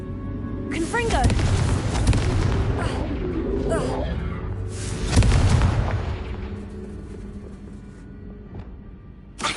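Blasting explosions from the Confringo spell in a Harry Potter video game, two heavy booming bursts with rumbling, crackling tails, loud and close, separated by a quieter stretch.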